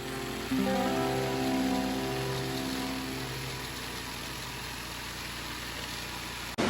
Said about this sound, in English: unfortunately there was just a little bit of rain